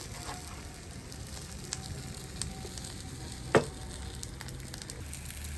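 Eggplant slices fry in hot oil for a homemade Jaffna-style eggplant sambal, a steady close sizzle and crackle running throughout, with one sharp pop partway through and no talking.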